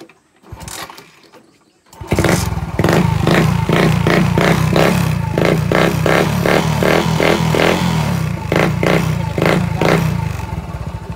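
A Suzuki Smash motorcycle engine starts after a brief quiet rustle, then idles loud and close with a fast, steady mechanical putter and rhythmic tapping pulses that hold on to the end.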